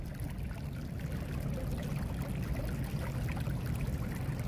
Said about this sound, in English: 2 4-inch pipes sending all this water